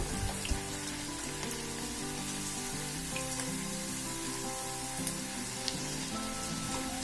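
Sliced tapioca chips deep-fry in hot oil, making a dense, even bubbling sizzle like steady rain, close and continuous with no voices.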